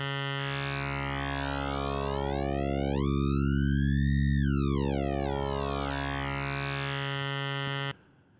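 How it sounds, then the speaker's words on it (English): An Access Virus synth's grain formant oscillator with formant spread holds one steady, bright, buzzy tone while its formants sweep apart in opposite directions and then return. The sustained note stays alone and loud for about eight seconds before cutting off. "Now, formant spread splits the formants and sends them in opposite directions."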